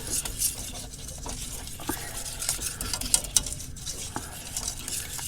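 A milk substitute is stirred in a pan on a campsite stove as it comes to the boil, with soft spoon scrapes and clinks over a faint sizzling bubble, quiet and close.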